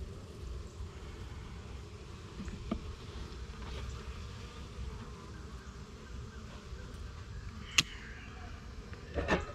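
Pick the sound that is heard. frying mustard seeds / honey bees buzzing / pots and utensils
honey bees buzzing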